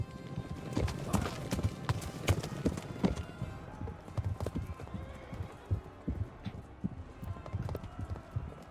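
Horses in the game Kingdom Come: Deliverance, ridden during a castle siege, gallop with steady clip-clop hoofbeats, loud and close at first and easing slightly later, with occasional whinnies mixed in.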